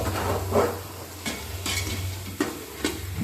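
Onion and tomato biryani masala being stirred in a pot, with a steady frying sizzle and several distinct scraping strokes of a spoon against the metal, close and clear, with no talk.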